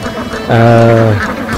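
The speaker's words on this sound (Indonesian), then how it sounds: "ini bebek-bebek ini bisa mencari makanan sendiri" A single loud, drawn-out quack from a duck on a duck farm, close to the microphone, rising over a bed of quieter background noise.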